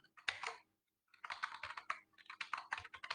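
Close computer keyboard typing while code is entered, bursts of quick clicky keystrokes broken by a brief pause near the start.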